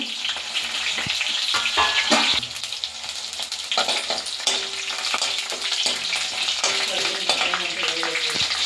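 Mustard seeds, curry leaves, crushed garlic and green chillies crackle and spit in hot oil, a loud, close, continuous frying sizzle with scattered pops and occasional stirring scrapes.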